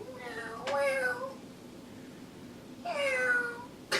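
A voice imitates a cat, drawing out two separate meows with a pause between them.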